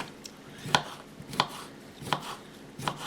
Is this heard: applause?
no